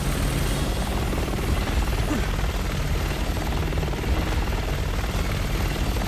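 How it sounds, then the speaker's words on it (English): Helicopter in the video game Resident Evil 6, a loud, continuous rotor and engine roar that holds steady throughout with no talk over it. "that will take out the helicopter"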